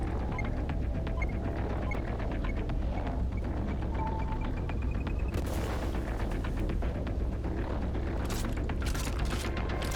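Electric rounds and electric grenades firing in The Last Caretaker, a video game: rapid crackling bursts and booms over a constant mechanical rumble, with sharper blasts clustered toward the end.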